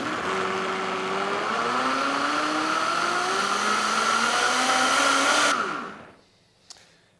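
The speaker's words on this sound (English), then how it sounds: "You blend this just until all of the ingredients are combined." A kitchen blender whirs through crêpe batter with melted butter, its motor pitch climbing steadily as it runs loud and close, then cutting off abruptly and spinning down, followed by a small clunk.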